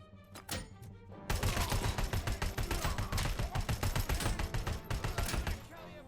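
Dense, rapid gunfire from a Robocop Rogue City firefight, a sustained automatic burst with brief shots before it, loud and continuous for several seconds.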